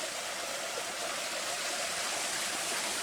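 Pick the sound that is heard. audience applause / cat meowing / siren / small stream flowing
small stream flowing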